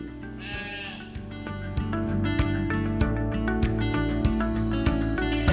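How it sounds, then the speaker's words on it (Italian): Several sheep bleat in wavering calls near the start, heard in an open outdoor setting in Bruges amid steady background noise and music-like tonal sounds. "come vedete, ci sono delle pecore"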